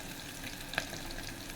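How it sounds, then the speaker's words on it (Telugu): Green chillies sizzle in hot oil in a pan while rasam is prepared, a soft continuous frying hiss with a faint clink partway through; quiet and steady, with no talk. "తర్వాత పచ్చిమిరపకాయలు వేసుకుందాము."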